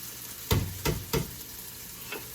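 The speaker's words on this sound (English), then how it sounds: "once I start hearing this sizzle, I'll dump this corn in" Canned corn hits a hot pan with several sharp bursts of sizzling frying, three strong dumps in quick succession followed by a steady quieter hiss, close and with no talking.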